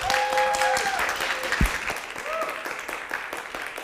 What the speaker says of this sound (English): So give a round of applause to Tracy.